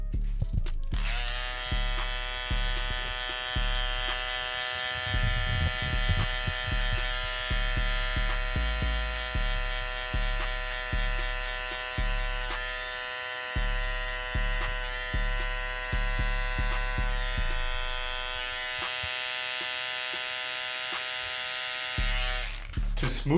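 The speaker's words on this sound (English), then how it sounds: "I'm gonna go with my trimmer, and with the upwards motion, I'll just be flicking it out" An electric hair trimmer hums steadily while cutting a burst fade, its motor buzz broken by repeated short flicking strokes against the hair, close and continuous throughout.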